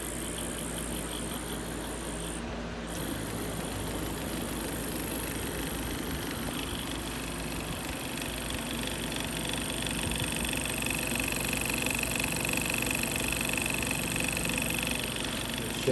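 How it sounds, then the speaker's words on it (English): A Bedini wheel spins steadily while its spark gap oscillates, a continuous mechanical whir and buzzing hum with faint rattling. It stays even and moderately loud throughout, with no voices. "Bedini wheel turning. Spark gap oscillating to the solar panel."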